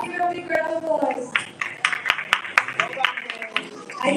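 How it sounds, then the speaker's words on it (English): Audience applause ripples through a Mister World Philippines 2026 pageant crowd, with scattered sharp claps building under a host's voice and crowd murmur. "Give it a big round of applause."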